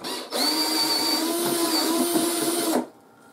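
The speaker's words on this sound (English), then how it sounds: "We'll drill it with that." Handheld drill boring a hole during a street-legal build of a 2023 KTM 450 XCF dirt bike, one steady high whine lasting about two and a half seconds, close and loud, then stopping abruptly.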